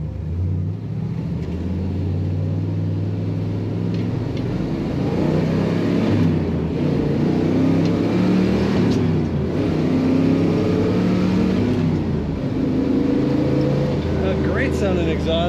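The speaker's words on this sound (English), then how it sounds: "Sounding exhaust and plenty of acceleration." A 1963 Chevrolet Impala SS two-door hardtop with a 409 engine accelerating on a wintry Minnesota road, its exhaust a loud, steady, deep rumble that builds and holds throughout, close and continuous, without voices.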